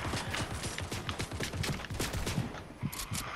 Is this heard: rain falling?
no